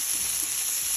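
Crushed shallots, about 200 grams, sauté in a pan with a steady, even sizzle that holds for a brief moment at moderate volume, with no talking.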